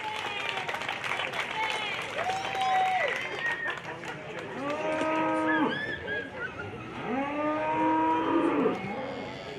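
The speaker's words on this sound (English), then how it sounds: "Let's give them a big, big round of applause." Livestock show arena with cattle mooing repeatedly, long drawn calls near and loud over a background of crowd applause and murmur, with a voice talking at times.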